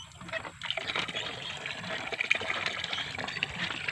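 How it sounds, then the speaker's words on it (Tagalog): Water pouring into a bucket as it is fetched in a rural province, a steady close rushing and splashing fill that stays constant throughout, with no talk over it. "malapit na mapuno ang baldi"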